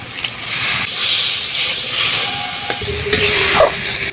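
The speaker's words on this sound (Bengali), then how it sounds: "পোস্ত বাটা লঙ্কা গুঁড়ো অল্প একটু জল দিয়ে দেব" Poppy seed paste, chilli powder and a little water go into a hot pan of cauliflower, setting off a loud, steady hiss and sizzle with stirring scrapes throughout.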